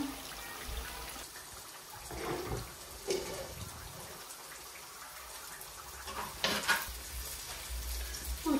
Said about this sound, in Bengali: পেঁয়াজটা ভাজ হয়ে গেছে, এখন আমি চাউলটা দিলাম। চাউলটা সুন্দর করে ভাজি নেব